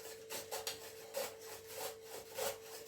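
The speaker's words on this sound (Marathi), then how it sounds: "कोवळी आहे त्यामुळे पटकन किसून होईल." Tender raw mango being grated by hand, with a rhythmic series of rasping strokes, roughly six scrapes over a few seconds, close and moderately loud with no talking.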